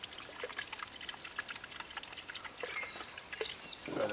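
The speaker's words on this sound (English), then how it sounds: "we're filling the barrels up with this garden hose attached to a tank, water tank" Water from a slow, gravity-fed garden hose running off a water tank trickles and pours steadily into barrels, a soft continuous splashing hiss that swells slightly louder toward the end.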